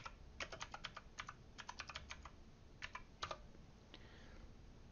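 Typing on a computer keyboard to enter an eBay search, with quick bursts of sharp key clicks separated by short pauses, close and clear, no talking.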